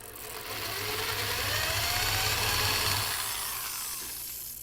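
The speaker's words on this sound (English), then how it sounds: "And we just drill a lot of holes till we're done." A power drill whines steadily as it bores holes through a metal Model T wheel hub with a drilling jig, the pitch shifting slightly as the bit bites, loud and close with no talking.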